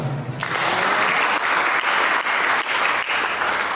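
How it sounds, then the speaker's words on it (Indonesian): A church congregation breaks into loud, sustained applause at a sermon, dense clapping starting abruptly and continuing steadily throughout. "Berikan tepuk tangan."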